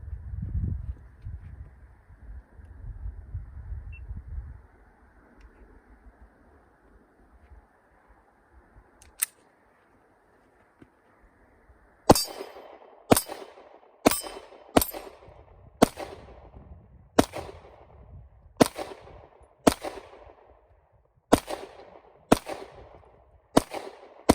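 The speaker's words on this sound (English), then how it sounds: "I'm gonna shoot the 15-round mag first." A Canik TP9 Elite SC pistol firing a 15-round magazine outdoors: after a quiet stretch of handling noise and one isolated pop, about a dozen sharp, loud shots ring out at a steady, evenly spaced pace, each with a short echoing tail.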